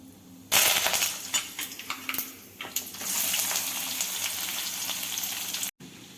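Cumin, mustard seeds and curry leaves hit hot oil for a tempering for besan okra fry, bursting into a loud crackling sizzle that settles into steady frying before cutting off abruptly.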